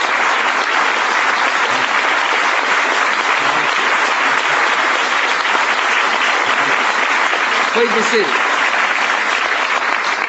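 Steady, loud applause from a large audience in the White House for the President continues unbroken throughout, while a voice speaks briefly over it.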